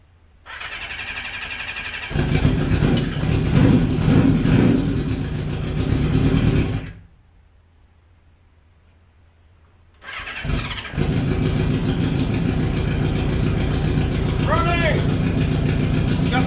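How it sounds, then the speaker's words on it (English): A hot rod lawn mower engine, started by jumping across the starter solenoid with the choke on, cranks and fires into a loud, rough run, cuts out for a few seconds, then cranks and catches again. "So let's give it a crank and see if it'll kick over."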